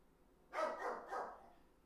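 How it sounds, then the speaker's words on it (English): A dog barks faintly in the background, two or three muffled yaps in quick succession, distant and low in level, with no talk over them. "Is that dog just too much?"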